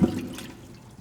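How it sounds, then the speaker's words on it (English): Water is pumped into a degassing tank in a flow visualization rig and fills it. A loud rushing gush at the start settles into a softer, steady flowing wash within a second. "Water will start flowing into and filling the degassing tank."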